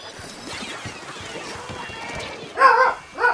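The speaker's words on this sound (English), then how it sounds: "No more barking, dogs." Dogs bark twice near the end, loud and close, rising over a busy, noisy game background.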